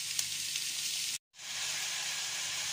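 Minced meat sizzling with translucent onions in a pan, a soft continuous frying hiss heard close, briefly cutting to silence before resuming steadily.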